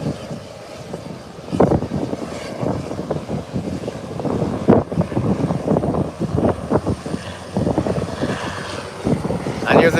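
An aircraft takes off from the runway at Howard Hamilton International Airport, a broad, distant engine roar that swells and wavers while people talk over it.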